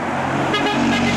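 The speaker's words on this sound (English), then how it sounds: "can we get a toot from the driver?" A replacement bus gives a short toot of its horn over roadway traffic noise. The honk is brief and moderately loud against the steady hum of passing vehicles.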